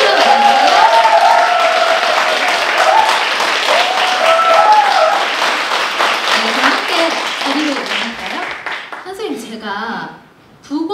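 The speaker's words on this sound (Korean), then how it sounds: "큰 박수로 맞아주세요." Loud, sustained audience applause at a traditional Korean music concert as a storyteller is welcomed onstage, a dense steady wash of clapping with some voices, fading near the end.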